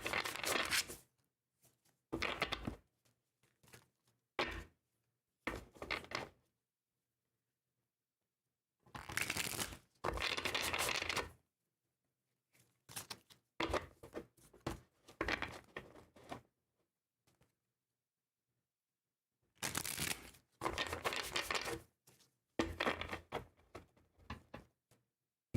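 Tarot cards shuffled by hand in a quiet room, several separate bursts of crisp riffling and sliding separated by pauses of silence, close and clear with no talking.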